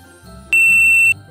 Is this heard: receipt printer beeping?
yes